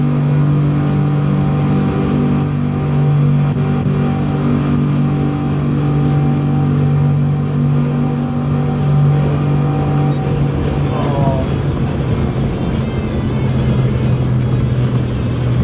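Race car engines, a Mazda and a Bugatti Veyron, in the video game Gran Turismo 7 drone loudly and steadily on Trial Mountain, with sustained engine tones and a shift in pitch near the end.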